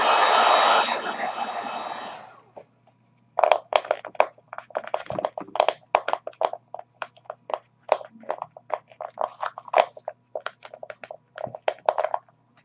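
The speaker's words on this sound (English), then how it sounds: "I really have to heat it up and press it around." A heat gun blows steadily for about two seconds while auto vinyl wrap is heated, then come many short crinkling and tapping sounds as the vinyl is pressed around an ornament for cosplay, close and irregular.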